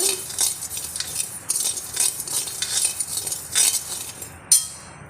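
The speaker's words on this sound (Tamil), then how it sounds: "அடுத்து சிறுதானியம் வரகரிசி கலரும்போது கைவிடாமல் கலருங்க ஒரு பக்கமாக போயிடக்கூடாது" Kodo millet dry roasting in a pan, stirred continuously with a metal spoon, giving a run of light clinks and scraping rattles against the pan, close and fairly quiet, no voices.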